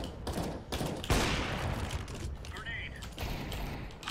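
Rapid gunfire bursts from CS:GO in a Wingman match, fired through a wall, crackling close and fairly loud with short gaps between bursts, while someone talks over parts of it.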